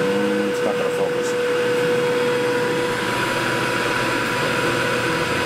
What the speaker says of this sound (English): this is my new laser cutter. Just trying it out here. And this is 1/8 inch hardboard.